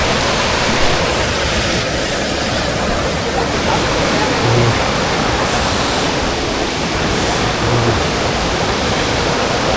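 Steady, dense rushing of a waterfall on Mt. Mandalagan, loud and continuous throughout like broadband white noise, with no distinct voices rising above the roar.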